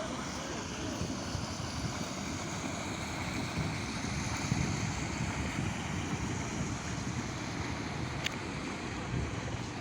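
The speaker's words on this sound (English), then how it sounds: "there's a boat" Boat passing by on open water, a broad wash of engine hum, wind and surf noise holding steady throughout at moderate distance.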